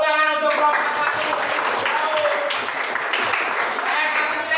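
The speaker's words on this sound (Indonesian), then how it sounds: "Tepuk tangan untuk kelompok 1." A classroom full of students applauds a winning group in a steady, dense wash of clapping that continues throughout, with voices mixed into the crowd noise.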